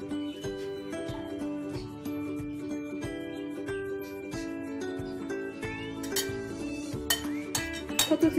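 Grated potato mixed with egg and spices is stirred in a bowl, making faint light clinks and scraping under steady background music, growing a little busier toward the end.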